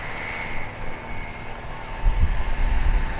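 An RAF Tutor propeller aircraft flying aerobatics at the RAF Cosford Airshow, a droning engine and propeller buzz that swells noticeably louder partway through as the plane pulls up into a roll.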